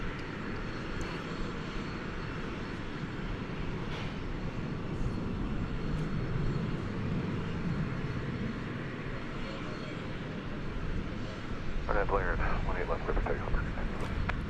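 An Airbus A319 takes off from runway 18 left at DFW, a steady distant engine rumble that swells toward the end, with a voice talking over it.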